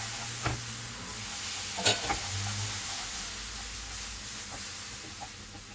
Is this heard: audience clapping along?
no